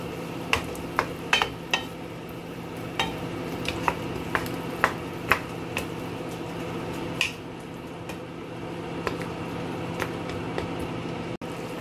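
Pork ribs stirred and mixed in a pan, with soft wet squishing and scattered sharp clicks and taps of a utensil over a steady low sizzle, close and moderately loud.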